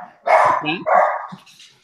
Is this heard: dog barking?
yes